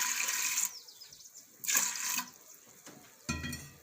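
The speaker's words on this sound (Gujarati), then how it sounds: "માં આપણે પાણી નાખશું" Water gushes into a pot of chana dal in three short pours, each stopping abruptly, with quiet pauses between them.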